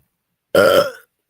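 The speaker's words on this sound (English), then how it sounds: "just burp in mid-sentence" A single loud, close burp lasting about half a second follows drinking from a can, with silence before and after.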